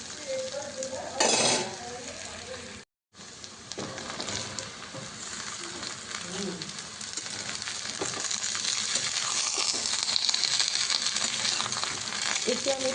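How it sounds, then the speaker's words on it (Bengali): Chopped drumstick stalks going into a pan of frying onion for a prawn chorchori, with a steady close sizzle, scraping stir strokes and a few utensil clinks, growing denser toward the end. "এবার আমি কেটে রাখা ডাঁটাগুলো এতে দিয়ে দেবো"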